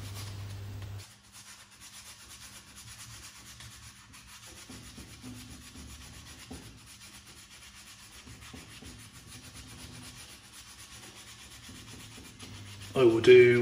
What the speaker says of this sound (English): get your mixing stick or something like a ruler and fold your sandpaper around it